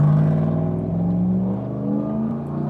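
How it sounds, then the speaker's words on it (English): A very loud motorcycle passes by close, a steady roaring engine note that swells and holds for a few seconds before easing slightly, heard alone with no talking. "A very loud motorcycle going by."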